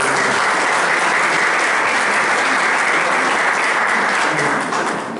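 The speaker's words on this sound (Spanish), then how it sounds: "Manda un aplauso a los hermanos que" A church congregation applauding, dense continuous clapping from many hands filling the room, loud and sustained before tapering slightly at the end.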